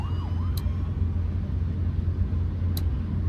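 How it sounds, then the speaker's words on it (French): Cars in The Walking Dead video game make a constant low traffic rumble, with faint wailing sirens and a couple of brief sharp clicks over the steady noise. "Oh, les voitures."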